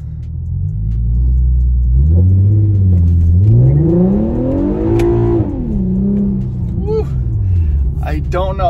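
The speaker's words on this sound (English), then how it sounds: "I'm really nervous to do a launch, but we got to try one" Infiniti Q50 with a limited-slip differential launching hard, its engine revving up loudly, climbing in pitch then falling back, with tire noise and a rumbling exhaust close by throughout.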